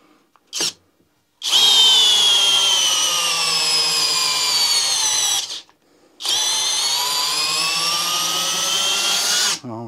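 A Parkside Performance PBSPA 12 C3 cordless drill in first gear and drill mode bores through a workpiece: a brief blip, then two long, loud, steady whines split by a short pause, close to the microphone.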